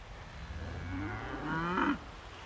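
A single cow moos, one drawn-out, rising low call lasting about two seconds, fairly close and clear against faint outdoor background near Ballantrae beach.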